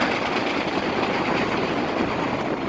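A Hudson line train rolls past near the George Washington Bridge, a loud steady broadband rumble and rush of wheels and cars holding constant throughout with no voices.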